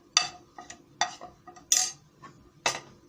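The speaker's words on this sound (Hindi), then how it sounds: "इसको मिक्स कर देंगे।" A spoon clinks and scrapes in a metal pot while kadhi pakora ingredients with green coriander, chopped and whole green chillies and kasuri methi are stirred, giving about six sharp metallic taps in an uneven rhythm, close and clear with no talking.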